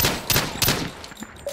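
Video-game gunfire in an online shooter match, a quick run of loud close shots at a rapid, uneven rhythm with no talk.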